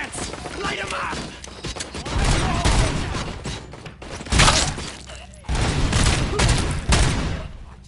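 Heavy video game gunfire aimed at RoboCop, a dense continuous barrage of shots with crashes and impacts, loud and close, with voices shouting over it.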